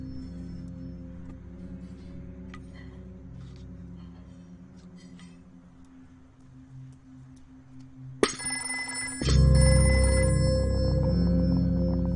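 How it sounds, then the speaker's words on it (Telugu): A telephone rings faintly during a meal at home, with soft clinks of dishes. A sudden louder burst of noise then takes over near the end. "ఇప్పుడే ఫోన్ రావాలా?"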